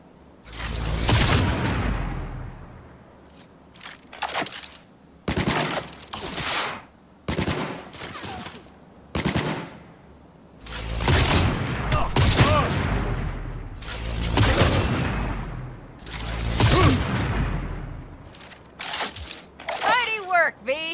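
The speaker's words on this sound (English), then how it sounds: "Keep firing, goddammit!" Bursts of automatic gunfire from the video game Cyberpunk 2077 ring out loud and repeatedly, long sustained volleys broken by short pauses, with in-game voices shouting between the shots.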